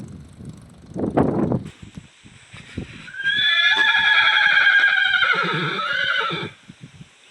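A horse gives one loud, long whinny that rises and wavers for about three seconds, after a few earlier thuds and hoof knocks close by.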